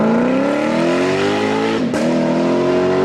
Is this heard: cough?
no